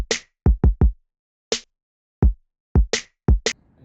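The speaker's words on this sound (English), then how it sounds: "And then here's our kick and snare." Hip-hop kick and snare drums played alone: punchy, close kick thumps alternating with sharp snare cracks in a sparse, uneven groove with silent gaps between hits.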